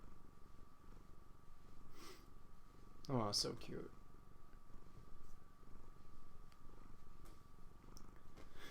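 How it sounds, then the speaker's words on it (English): A domestic cat purrs softly and steadily while being petted, a low continuous rumble running the whole time, with a brief spoken voice near the middle. "I'm just pretty much busy petting my cat right now"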